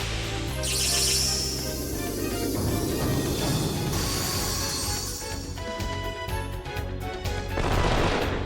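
Rapid bursts of Gatling gunfire in the Wild ARMs 3 video game, with dense repeated shots over game music and tonal effects, loud and close throughout.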